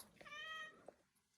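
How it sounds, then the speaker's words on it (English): A cat on a farm gives a single clear, drawn-out meow, close and fairly quiet, followed by a soft click and faint background sounds, with no speech. "The cat says hi, too."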